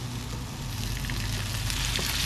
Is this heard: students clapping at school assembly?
no